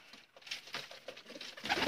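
A Sialkoti pigeon coos in quick repeated low rumbles, fairly faint and close, with fluttery movement noise rising toward the end.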